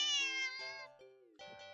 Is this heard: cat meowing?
yes